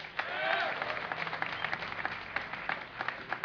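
Crowd at a DreamHack 2010 StarCraft II esports event cheering and clapping in a steady, dense wash of applause with scattered sharper claps, moderately loud and continuous throughout.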